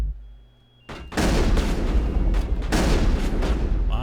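Shotgun fire in the video game Mass Effect 1, loud booming blasts that start after a quiet moment and roll into a sustained, dense barrage of gunfire.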